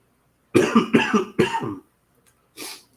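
Several harsh coughs in quick succession, close and loud, followed by a brief pause and one softer cough.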